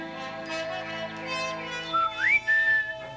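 A cartoon Grinch whistles a short, cheerful, rising tune over soft orchestral music, the bright whistled notes sliding upward and then holding steady near the end.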